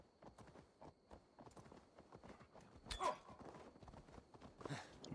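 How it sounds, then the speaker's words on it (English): Horse hooves walking in Assassin's Creed Valhalla, a steady close clip-clop rhythm of hoofbeats with a brief brighter sound partway through and no talking. "I'm gonna check one more thing while we're on the horse."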